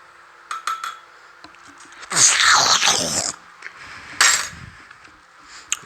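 Ginger ale and orange juice stirred together in a glass, with a spoon clinking against the sides in a short burst of swirling, fizzy clatter, then a few scattered taps and a brief second rattle.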